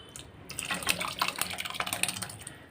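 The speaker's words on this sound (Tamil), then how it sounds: "இப்போ இது கூடவே நம்ம பருப்பு தண்ணி சேர்ந்து ஊற்றிக்கலாம்" Cooked lentil water poured from a pressure cooker into a pot of sambar, a steady liquid splashing and trickling with small drips, close and moderately quiet, no talking.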